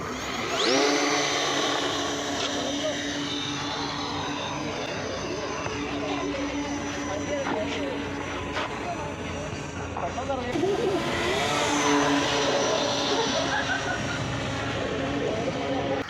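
A homemade model airplane on its first flight gives a steady, loud engine drone with a high whine, holding through most of the stretch and swelling again near the end, while voices talk over it.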